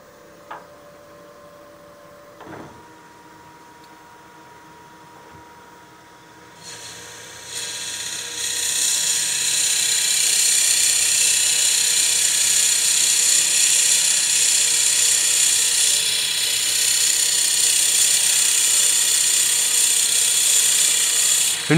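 A dull Forstner bit bores into a cigar case blank on a wood lathe at about 500 rpm. After a quiet start with a couple of clicks, a loud, steady, high-pitched grinding squeal sets in and continues.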